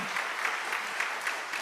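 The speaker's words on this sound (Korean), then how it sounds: "박수 한번 할까요?" A congregation at a Friday night church prayer service applauds for a missionary, a brief steady burst of many hands clapping at moderate volume.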